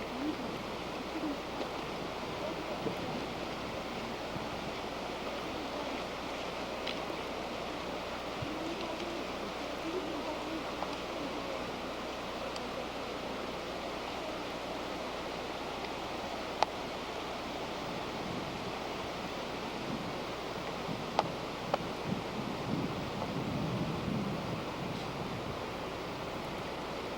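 Water rushes up along a Hawaiian trail where a canyon narrows, a steady soft wash of surf-like noise with a low rumble, continuous and moderately distant, a few faint clicks near the end.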